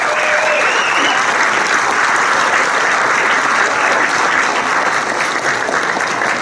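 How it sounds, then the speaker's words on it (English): Loud, dense applause from a banquet audience at an awards ceremony honoring valor award recipients, sustained evenly from start to finish with no talk over it. "applause, please."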